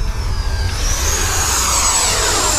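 A lightweight RC jet airplane flies overhead, its steady loud turbine whine holding throughout with a rising high-pitched sweep as it passes, no talking.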